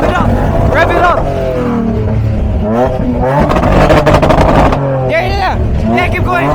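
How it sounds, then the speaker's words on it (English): Car engine revving hard at a car meet, a loud rising and falling roar with repeated throttle blips, mixed with voices shouting nearby. "Rev it up. Rev it up."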